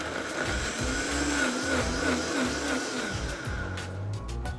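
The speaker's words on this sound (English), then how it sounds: "We just put it in the blender and press play." Countertop blender whirring steadily as it purées a fresh salsa of garlic, serrano chilies, cilantro leaves, lime juice and salt, a loud continuous motor drone with a slight wavering pitch as the contents churn.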